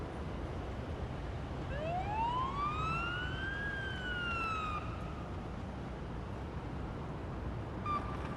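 An ambulance siren in a paramedic simulator video game rises and falls in a single long sweeping wail across the middle of the clip, loud over steady engine and road noise, with a brief higher tone near the end.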